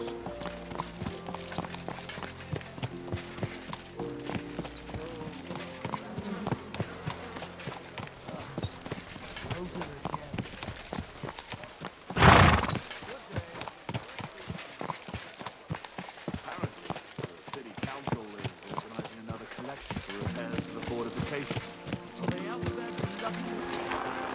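Rhythmic clip-clop of horse hooves trotting along in Kingdom Come: Deliverance 2, steady and fairly close, with a brief louder burst partway through and game background sound.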